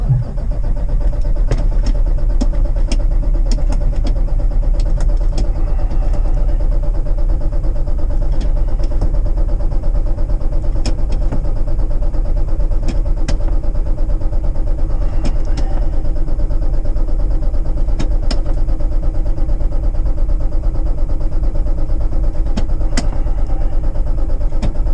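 A car engine idles steadily in freezing weather around -16°C, a loud, close, continuous low rumble that holds constant throughout, with faint clicks and taps scattered over it.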